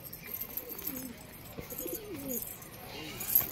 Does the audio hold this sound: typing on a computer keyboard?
no